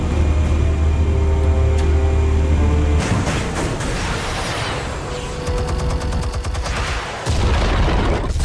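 Explosives detonating in a Batman video game, a deep booming blast with crackling debris and rumble under a steady game soundscape, alone with no talk.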